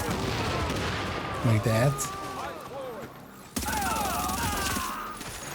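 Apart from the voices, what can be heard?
artillery fire in a video game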